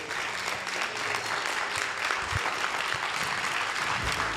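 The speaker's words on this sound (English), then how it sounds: "A round of applause, if I could, please, for this wonderful group." A town hall audience at a public education event in Eastpointe, Michigan applauds school staff, with sustained, dense clapping from a sizable crowd that stays steady throughout.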